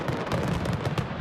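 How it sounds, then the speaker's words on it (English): Fireworks explode at a house in a dense, continuous barrage of crackling pops and bursts that stay loud and fill the whole stretch without a break. "the blast involving fireworks ignited multiple fires"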